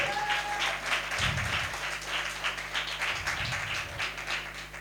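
A church congregation applauding during a sermon, a dense steady wash of clapping that runs throughout at moderate distance, with a few low thumps breaking through.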